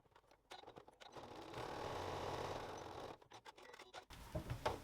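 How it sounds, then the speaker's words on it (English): A sewing machine top stitches the top edge of a weekend bag, a quiet steady whirr with soft clicks at the start and end. "now I'm going to top stitch the top edge"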